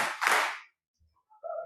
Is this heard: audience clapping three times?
yes